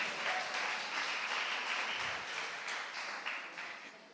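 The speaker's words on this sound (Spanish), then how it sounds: "Denle un aplauso a este muchacho." A church congregation applauding a young man after a sermon moment, sustained broad clapping from many hands that slowly fades toward the end, with no voices over it.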